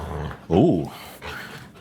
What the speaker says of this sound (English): I'm not too worried about the growl that you saw there.